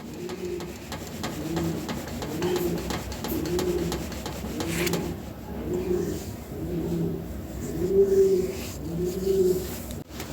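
Lahori pigeons coo close by in a slow, regular rhythm, with about nine soft, rounded, throaty coos repeating roughly once a second.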